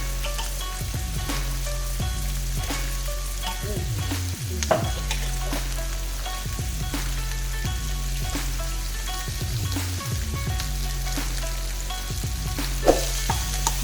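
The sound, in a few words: vegetables frying in pot for beef bulgogi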